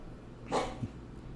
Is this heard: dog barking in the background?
yes